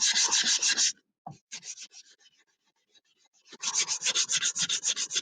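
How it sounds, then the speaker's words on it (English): A wooden secret box being sanded by hand, with steady back-and-forth rasping strokes in two bursts: a short opening run, a fainter broken middle, then a strong rhythmic final run, close and alone. "So I've sanded that nice and flush."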